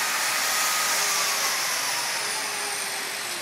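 A grinder works metal during a restoration of a 1929 car, a steady loud high hissing whir held without a break, with no talking.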